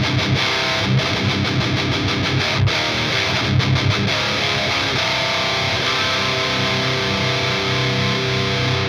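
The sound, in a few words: electric guitar through REVV G20 all-tube amp, crushing distortion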